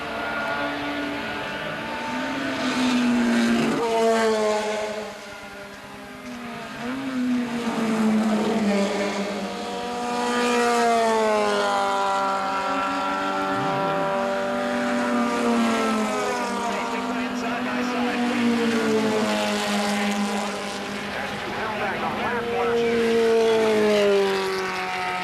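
H Production race cars, including an Austin Healey and an MG Midget, at the 1980 Runoffs. Engines drone and rise and fall in pitch as the cars pass and accelerate, loud and continuous, with a voice talking over them.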